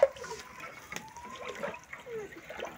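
Water is poured into a pan of fried onion and bell pepper, a faint, brief splash and slosh followed by quiet trickling, heard close in a kitchen.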